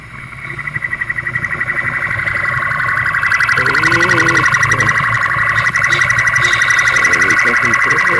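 An ambulance siren wails loudly in traffic from close by, a continuous rapid warbling tone that holds steady throughout, with faint talk beneath.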